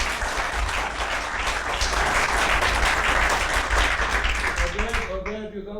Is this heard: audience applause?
yes